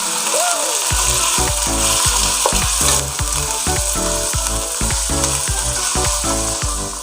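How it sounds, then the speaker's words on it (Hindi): Minced meat keema frying in a pan for a keema bhindi dish, a loud steady sizzle with rhythmic scraping stirs repeating about every half second, close and continuous with no talking. "कीमे को फ्राई करेंगे। इतना फ्राई करेंगे कि कीमे का कलर चेंज हो जाए।"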